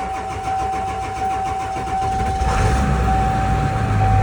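A 7.3 turbo diesel shuttle passenger bus engine cranks in below-freezing cold, then catches about midway and settles into a loud, rough, close idle.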